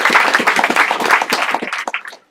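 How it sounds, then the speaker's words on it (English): Assembly audience at a national gathering in Düsseldorf applauds, a dense, loud wash of many hands clapping that thins out and fades toward the end. "I'd say another round of applause is in order."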